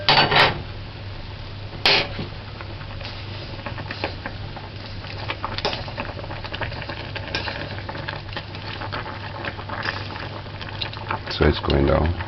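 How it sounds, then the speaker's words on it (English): A pot of water comes to a rolling boil on a stovetop, a continuous close bubbling and churning with occasional louder clatters, while a person talks over it. "You wanna make it come to a boil."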